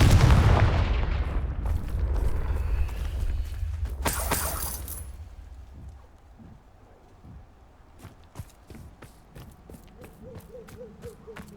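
A Confringo fire spell explodes in Hogwarts Legacy, opening with a loud, rumbling blast that swells, bursts again near the middle and fades into quiet ambience scattered with faint clicks and a soft hooting tone.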